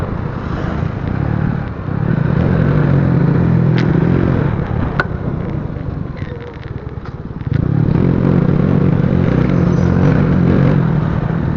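Motorcycles pass along a quiet shortcut road toward Manila and Cavite, engines swelling loudly up close, fading in the middle, then roaring past again.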